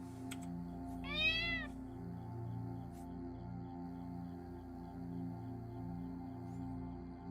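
A single clear cat meow in the video game Planet Crafter, a short rising-falling cry standing out over a steady low game hum and ambient drone.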